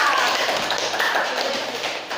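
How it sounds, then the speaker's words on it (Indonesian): A fourth-grade primary school class claps for two classmates, a dense, steady wash of many small hands clapping together indoors at close range. "Beri tepuk tangan untuk mereka."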